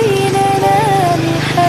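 A motorcycle engine runs in a played video, a loud steady drone with a wavering pitch that rises and falls as it revs.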